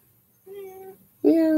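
A house cat meows twice indoors near an open window on a windy afternoon, close by; the first call is short and moderate, the second louder and rising, and a person nearby also imitates the meow.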